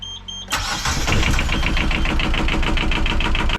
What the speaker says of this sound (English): we'll start the engine for you just so you can see